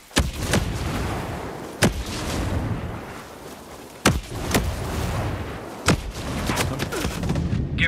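Gunfire in the video game Ghost Recon Breakpoint during a PvP match: several sharp, loud shots ring out at irregular intervals over a steady din of battle ambience, with a few quicker bursts near the end.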